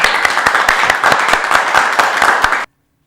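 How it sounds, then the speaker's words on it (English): An audience at a poetry and Grandparents' Tales contest event gives a short burst of clapping, brisk and fairly dense, cutting off abruptly into silence after under three seconds. "Let's give them a round of applause."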